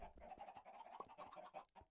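Chickens clucking in the Minecraft video game, a quiet, steady jumble of short overlapping clucks from several birds with no talking.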